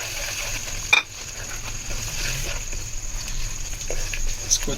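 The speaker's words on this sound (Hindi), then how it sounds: "चम्मच को अच्छे से चलाएंगे ताकि जो हमने छेना इसमें डाला है, दूध का छेना" A spoon stirs suji halwa mixed with mashed milk chhena in a pan, making soft, continuous scraping and patter close up, with a sharper clink near the start.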